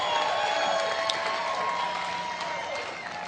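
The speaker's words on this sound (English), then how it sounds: "let's give him a round of applause." Audience applauding a speaker at a self-development seminar, a steady even roar of clapping and crowd noise that slowly softens toward the end.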